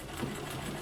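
A White Rotary treadle sewing machine doing free motion quilting, a brief continuous whirring hum, close and steady with no talking.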